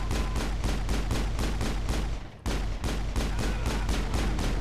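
Dense, continuous automatic gunfire from a Mass Effect shootout inside a club, loud and rapid with a steady rhythm and one brief break about halfway, with no voices over it.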